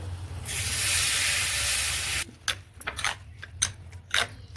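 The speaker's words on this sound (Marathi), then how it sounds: "तेल, जिरे, मोहरी, हिंग, मेथ्या, चिंचेच्या चटणीवर फोडणी द्यायचं आहे" A loud hiss bursts up for about two seconds as hot oil tempered with cumin, mustard seeds, asafoetida and fenugreek hits tamarind chutney, then cuts off, followed by a few light crackles and pops.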